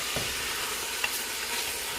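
Jamaican-style oxtail frying in a pot: a steady, close sizzle with a brief stirring scrape near the start and a small click partway through, no voices.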